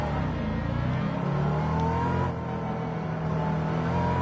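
A Mercedes SLR in Gran Turismo 7 races the Nürburgring Nordschleife, its engine holding a loud, steady sustained drone with gently rising and falling pitch throughout, no voices over it.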